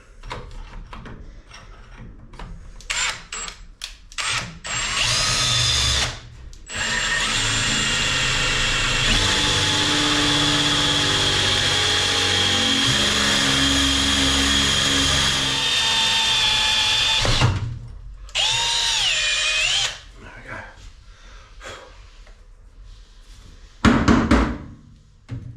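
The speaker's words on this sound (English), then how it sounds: "And now we should have a bit more luck drilling through." A power drill whines steadily as it bores through a metal Formula Ford crossflow cylinder head, pitch shifting under load, with short pauses and a few clunks between bursts.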